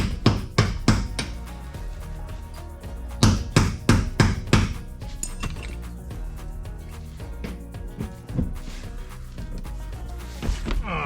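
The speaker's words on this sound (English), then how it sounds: "Little hammer." Bursts of sharp metallic strikes from a small hammer on corroded parts of a 1980 Malibu, in quick clusters close by, with pauses and some clinking between rounds of blows.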